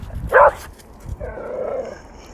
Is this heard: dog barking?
yes